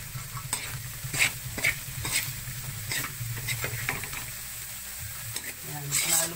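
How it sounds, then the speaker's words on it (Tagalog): Leftover lechon dinakdakan with onion being stirred and mixed in a bowl, giving a steady close scraping and stirring texture with light clinks, continuous and moderately loud with no talking. "Mix it thoroughly."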